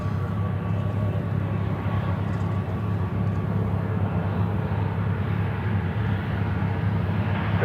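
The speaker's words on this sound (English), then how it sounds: "Who's making that noise? 737, of course." Boeing 737 airliner engines at Charlotte airport roar as a steady, continuous low rumble with a faint whine, unbroken and fairly distant throughout.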